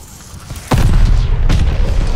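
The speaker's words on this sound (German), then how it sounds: "Granate!" A loud, close grenade blast in the video game Call of Duty Vanguard: a sudden deep boom followed by a sustained heavy rumble, with a second burst of debris noise a moment later.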